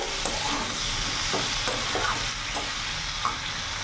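Chopped tomato sizzles in hot oil in a pan of rohu fish curry with flat beans and potato, a steady frying hiss broken by soft scraping stirs at a regular pace.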